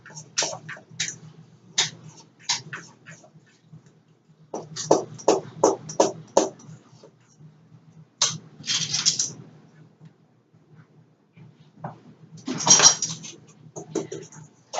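A spoon scrapes and clinks against a bowl while yellow cake mix is stirred together with dark cocoa, in irregular bursts of sharp taps and scraping with short quiet gaps between them, heard up close.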